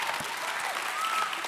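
Audience at a conference session claps in a brief, fairly faint, steady burst of applause.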